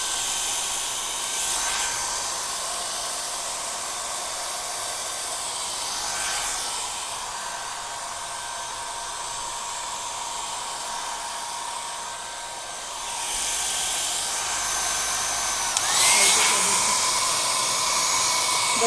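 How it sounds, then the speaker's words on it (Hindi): A handheld hair dryer blows steadily and close up while long wet hair is dried, its airflow whooshing with small shifts in pitch and strength as it moves around the head. "तो मैं इनको करूँगी ड्रायर से ड्राई।"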